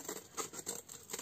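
Scissors snip through a printed photo from a Canon Selphy CP1300 printer in a few short, soft bursts of crisp cutting and paper rustle, close and quiet.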